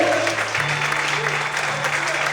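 A church congregation clapping during a morning service, a continuous dense wash of applause over a low sustained musical tone, steady and fairly loud.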